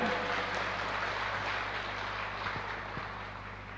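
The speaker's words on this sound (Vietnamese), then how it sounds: "Đồng ý cho tràn vỗ tay" An audience at a Buddhist sermon applauds in a dense wash of clapping that holds steady and then tapers off slightly, with no speech over it.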